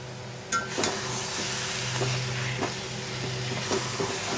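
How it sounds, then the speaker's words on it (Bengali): Bitter gourd and fried fish head sizzle quietly in oil while being stirred in a pan, a soft continuous fry broken by a few light scraping clicks of the spatula. "এবারে এটাকে নেড়ে নেড়ে শুকনো করব।"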